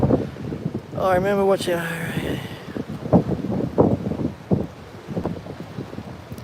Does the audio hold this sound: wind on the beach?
yes